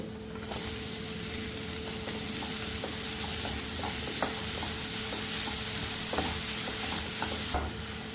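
Chopped onion and capsicum sizzle steadily in a pan for pav bhaji, with a constant frying hiss broken by occasional scrapes and taps of a spatula stirring.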